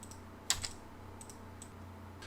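Computer keyboard typing AutoCAD commands, entering the fillet command and its radius value with Enter presses: a few sparse, light keystroke clicks, the sharpest near the start, in a quiet room.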